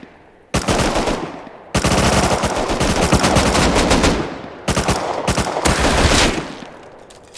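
Thompson submachine gun fire in the survival video game Rust, heard as loud, close, rapid automatic bursts. There are three long strings of shots separated by brief pauses.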